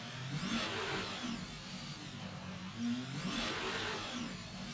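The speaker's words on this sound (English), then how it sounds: "Really trying to warm up these tires. Do a couple nice burnouts." Race car engine in the F1 22 video game revving hard through tyre burnouts, a loud continuous roar with rising and falling surges and broadband wheelspin noise throughout.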